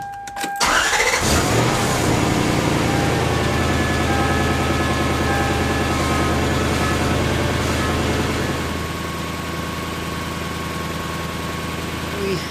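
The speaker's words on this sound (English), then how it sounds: "Start the engine, bring it to full operating temperature, and run for a minimum of 10 minutes at 1200 RPM." A Lexus LS400 engine cranks and catches, then settles into a steady, loud, close idle that eases slightly lower after about eight seconds.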